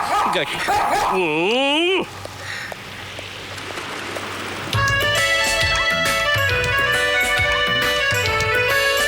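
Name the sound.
dog barking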